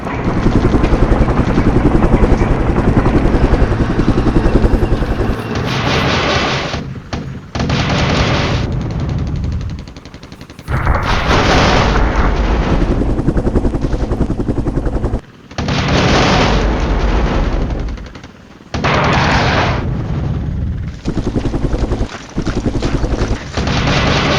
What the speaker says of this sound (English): Helicopters do some damage for us here.